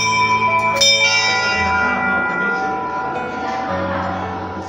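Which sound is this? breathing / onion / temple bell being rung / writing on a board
temple bell being rung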